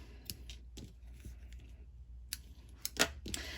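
Scissors trimming paper ends on a paper pumpkin craft project, a few quiet sharp snips spaced irregularly with handling clicks in a quiet room.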